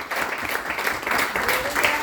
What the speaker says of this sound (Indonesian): Ayo kita coba tepuk tangan.